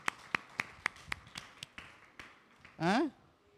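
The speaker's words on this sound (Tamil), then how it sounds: "கையை தட்டுங்க, கையை தட்டுங்க, கையை தட்டுங்க" A church congregation claps in a sparse, uneven patter of separate hand claps at a Tamil sermon service, fading out before a short burst of voice.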